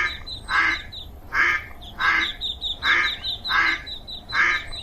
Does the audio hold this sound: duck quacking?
yes